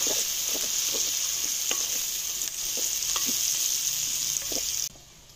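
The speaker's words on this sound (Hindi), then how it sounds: "घी गर्म है तो प्याज ऐड कर देते हैं।" Onions fry in hot ghee in a kadai for Punjabi village-style chicken karela, a steady loud sizzle with repeated scraping stir strokes, ending abruptly near the close.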